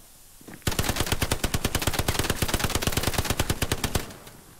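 A long, rapid automatic burst from a machine gun in the video game Hell Let Loose, dozens of evenly spaced loud shots rattling for several seconds before cutting off abruptly.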